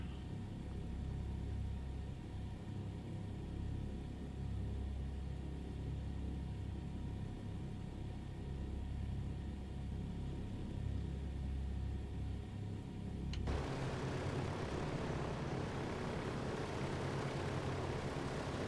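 Sustained low engine drone of a DC-3 taxiing on an airfield in a flight simulator, rumbling steadily throughout and growing brighter and louder in the final few seconds.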